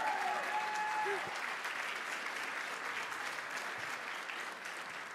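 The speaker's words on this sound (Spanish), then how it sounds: "Levanta un aplauso al Señor." A church congregation breaks into sustained, dense applause that starts strong and gradually softens, with a voice briefly audible near the start.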